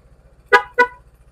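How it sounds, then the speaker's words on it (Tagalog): Two short car horn honks in quick succession, fairly loud and close, sounding during an electrical check of power-up lines on a vehicle, with a low steady hum underneath. "pansinin nyo yung busina"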